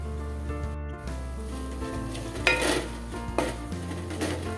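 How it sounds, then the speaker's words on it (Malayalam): Coriander powder and fish masala stirred in a pan for Kerala-style mackerel curry: a steady spoon scraping over a low sizzle, with a couple of louder clinks against the pan midway. "പൊടികൾ നന്നായിട്ട് ഇളക്കി കൊടുക്കണം. നന്നായിട്ട് മിക്സ് ചെയ്യണം."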